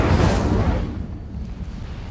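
A fire spell cast in the Hogwarts Legacy video game bursts out as a loud, broad whooshing blast that fades into a low rumbling tail over about two seconds.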